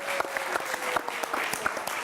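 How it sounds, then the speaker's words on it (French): An evening audience at a French event applauds, giving a dense, continuous patter of many clapping hands with a few sharper claps standing out from the wash. "Vous pouvez applaudir David"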